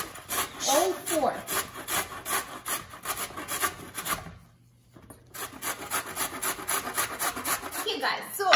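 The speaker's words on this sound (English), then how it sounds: "So let's start with grating our carrots." Carrots are grated by hand on a grater in rapid, rhythmic rasping strokes up close, with a short pause midway before the steady scraping resumes.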